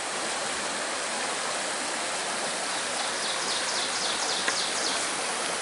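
A forest stream flows past sandbars with a steady, full rushing of water, constant and close, with faint bird chirps above it.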